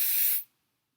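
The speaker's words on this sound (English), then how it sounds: "Give it a nice spray." A single short burst of aerosol hairspray, a bright hiss lasting under half a second and then silence.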